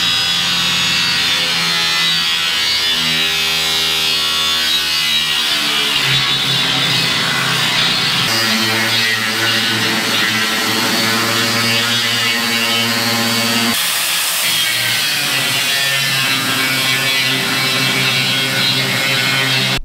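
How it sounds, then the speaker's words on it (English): A small angle grinder with an abrasive disc cutting while making a step, a loud, steady high-pitched whine with a rough grinding edge that runs continuously and shifts pitch slightly as the load changes. "So you saw that I switched to the little grinder."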